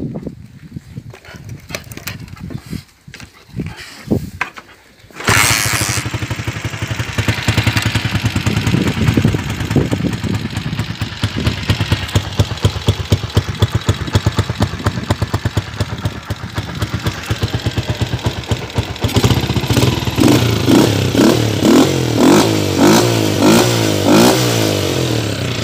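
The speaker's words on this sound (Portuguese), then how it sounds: "Vamos ligar ela aqui" A small motorcycle, old and a bit worn, is cranked with a few rough attempts, then catches and settles into a loud, steady clattering idle before being revved in rising bursts close by.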